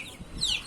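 Chickens clucking softly in a backyard flock with chicks, brief scattered calls rising and falling over low ambient noise.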